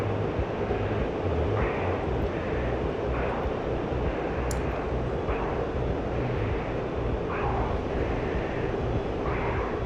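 In the DCS flight simulator game, an aircraft engine drones in a continuous, loud hum that holds steady throughout, with faint periodic swells laid over it.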